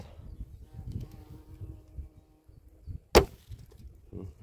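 Archery bow shot on a 3D target course: a single sharp, loud crack of release and impact stands out midway, with quiet outdoor rustling and footsteps around it.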